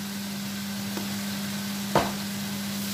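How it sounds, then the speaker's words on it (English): Red amaranth greens and brinjal are stirred in a frying pan, a faint steady sizzle with a couple of soft scrapes and one sharper clink near the end, with no voices. "You stir all this, mix everything together."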